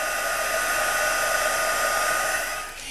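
A heat tool blowing hot air onto embossing powder on a stamped card, a steady loud whooshing roar held nearly the whole time before tapering off at the end.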